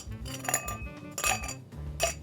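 Ice clinks into a cocktail glass for a cocktail of root beer and absinthe, several bright, close clinks and knocks in quick succession.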